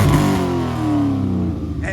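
A Corvette at an evening car meet gives a deep, loud engine roar close by that sags slowly in pitch as the revs fall, with voices among the crowd.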